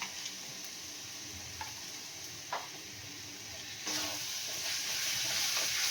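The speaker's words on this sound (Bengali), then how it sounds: "এবার আমি মশলাটাকে ভালো করে কষাবো" Spice paste (masala) is sautéed in a pan after a splash of water, a soft steady sizzle with a few scattered clicks of a spatula, swelling into a louder, hissing fry near the end, with no voices.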